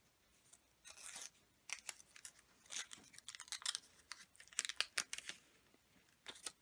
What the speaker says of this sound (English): I press down and score the paper a little bit, and you'll see it comes apart. And then you can peel it off.